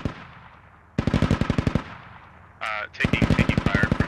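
Automatic gunfire in the video game Squad bursts loudly in two long rapid strings of shots, separated by a lull and a brief harsh noise, close and dominant.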